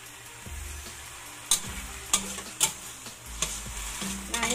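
Mushrooms with oyster sauce and a splash of water sizzle in a pan while a spatula scrapes and stirs at intervals, close and moderately loud, with no voices.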